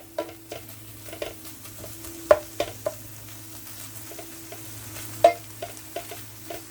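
Hamburger meat and melting butter are stirred in a frying pan: a soft, steady sizzle under repeated spoon scrapes and taps against the pan, some sharper clinks standing out, close and moderately quiet.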